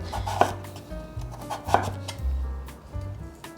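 A knife slices through sweet potato on a cutting board, giving several separate crunchy cuts with board knocks at an unhurried rhythm, close and clear.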